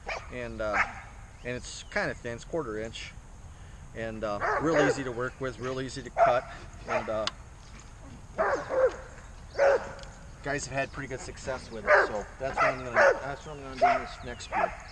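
Dogs barking and yipping in bursts, nearby and fairly loud, mixed under someone talking steadily through most of the stretch.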